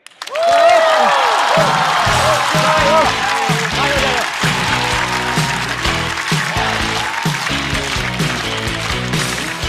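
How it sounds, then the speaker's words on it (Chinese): An audience on a Chinese stand-up comedy show breaks into loud applause to welcome comedian Harry. The clapping swells quickly and holds as a dense, sustained ovation, while music plays underneath. "掌声欢迎 Harry"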